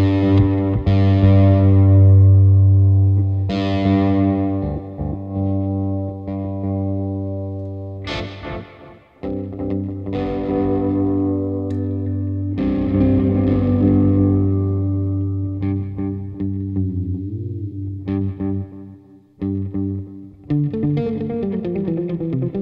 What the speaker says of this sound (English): Let's do a little reverb tricks here.